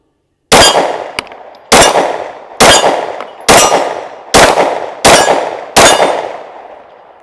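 Glock 19 pistol fired at a shooting range, seven sharp loud shots spaced roughly a second apart, each with a short ringing decay, close and alone without talk.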